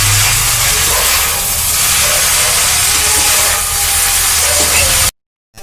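Noodles (chowmein) frying in hot oil in a pan, a steady loud sizzling hiss that continues without a break, then cuts off abruptly at the end.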